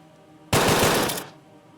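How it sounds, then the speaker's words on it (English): A single short, loud burst of MP5 submachine gun fire in the turn-based RPG Graywalkers Purgatory, a dense rapid rattle lasting under a second before fading out. "we will use the MP5 now"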